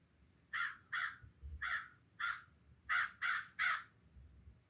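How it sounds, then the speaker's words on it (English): Crows caw outdoors in a run of about eight harsh, evenly spaced calls, moderately distant against a quiet background. "Listening to the birds."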